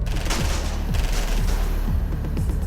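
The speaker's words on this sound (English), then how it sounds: "Automatic gunfire rakes Stanfa's car, and all hell breaks loose" Automatic gunfire rakes a car in a sudden mob hit, several sharp shots cracking in an irregular burst over a loud, dense background.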